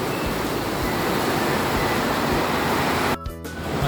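Very heavy rain pours down during a typhoon as a loud, steady roar that holds throughout, briefly dipping near the end.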